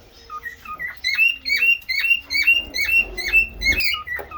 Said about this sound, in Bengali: কি সুন্দর করে ডাকে ও হচ্ছে ব্রিড করবে ব্রিডিং মোডে আছে ব্রিডিং কল দিতেছে